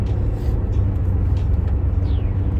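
A car driving along a road, with a steady low engine and road rumble that holds loud and close throughout, and no talking.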